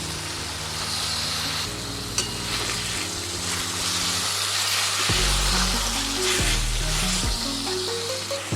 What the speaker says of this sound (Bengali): এবারে দিয়ে দেবো সামান্য গরম জল।